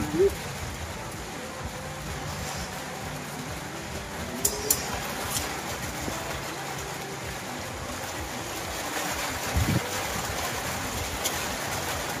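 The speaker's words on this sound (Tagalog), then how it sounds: "Ulan." Steady rain hisses continuously at a construction site for a housing build, an even wash of noise with a few faint knocks and distant voices underneath.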